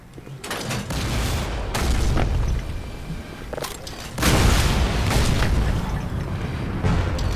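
Rocket blasts in Black Mesa: a series of heavy, rumbling explosions crash close by in overlapping waves, with a big deep boom near the middle and sustained debris-filled roar throughout.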